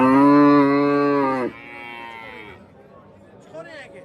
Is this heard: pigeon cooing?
no